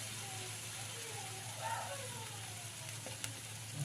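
Spices and turmeric sizzle steadily in a hot pan while an egg curry is sautéed, a continuous low hiss of frying with faint stirring, heard close and alone at a quiet level.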